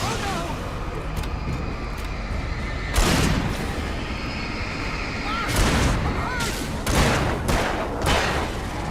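Gunfire in the Alan Wake video game, with several loud bursts of shots and booms standing out over a continuous rumbling game soundscape.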